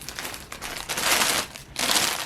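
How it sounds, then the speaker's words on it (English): Crinkly plastic packaging rustles close up in short bursts, louder crackling swells separated by a brief quieter gap, with no talking. "So here's some rustling."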